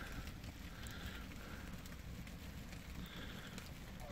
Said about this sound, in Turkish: aşağıda çok yoğun yağıyor değerli dostlar. Burada da başladı.